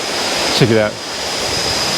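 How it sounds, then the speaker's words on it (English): The hotel's private waterfall at the artsy Garret Mae Kampong gives a close, steady, loud rushing roar of falling water, with a brief spoken phrase over it. "God's own private waterfall over here"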